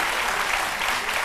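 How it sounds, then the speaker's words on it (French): Applause from a studio audience on a French-language midday TV show, a steady, even wash of many hands clapping throughout with no voices over it. "je ne m'attendais pas du tout à des applaudissements"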